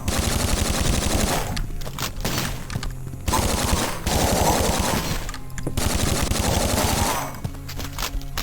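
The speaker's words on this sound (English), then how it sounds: "Alright, now we're getting shot at. So now we've got the Sten submachine gun," Sten submachine gun in a first-person shooter game, firing in sustained rapid bursts with brief pauses between, loud and close, layered with other gunfire and game noise.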